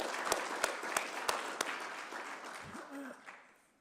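A school committee audience claps for students, several distinct sharp claps in an even rhythm over a soft crowd wash that fades out, with a brief voice near the end.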